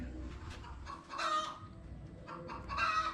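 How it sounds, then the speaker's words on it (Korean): A neighbor's chicken clucks and crows in short repeated bursts, fairly faint and a little distant, at a workshop in Cambodia. "옆집 닭이 계속 울어요"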